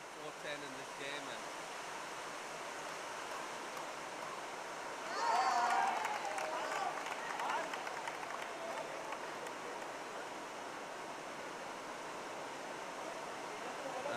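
Rain falling across an outdoor pickleball court during a monsoon tournament, a steady soft hiss of drops with a brief swell partway through, while commentators talk over it.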